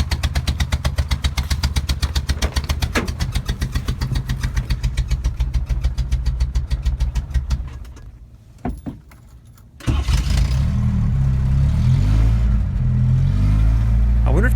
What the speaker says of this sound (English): again it's sputtering and barely running